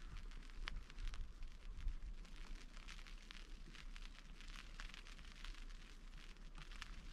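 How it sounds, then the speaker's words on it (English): Rain patters on a tent fly sheet during a solo wild camp in the Cheviot hills, a faint, steady hiss with scattered soft drops tapping the fabric and no talking. "Can you hear the rain?"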